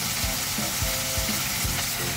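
Chicken breast sizzles loudly and steadily in a hot pan, a constant crackling hiss with soft low thumps as it shifts.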